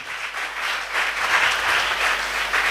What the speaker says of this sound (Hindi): एक बार ज़ोरदार सैम सर के लिए तालियां बजाइए